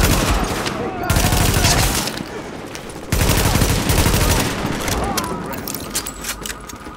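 Gunfire in the video game Tom Clancy's The Division: dense bursts of automatic weapon fire and shooting crackle continuously and loudly in a city street firefight, with voices mixed in.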